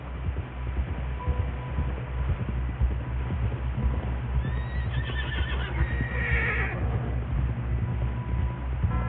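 A horse gallops with steady clip-clop hoofbeats and gives a loud whinny midway, heard in Red Dead Redemption 2 over a constant low rumble.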